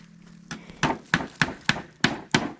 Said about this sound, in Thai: มาตอกตะปู